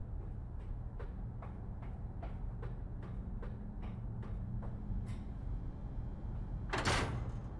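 A heavy door creaks and rattles open in the horror game Amnesia: A Machine For Pigs, a series of quiet regular clanks over a low machine hum, ending in a louder scraping burst.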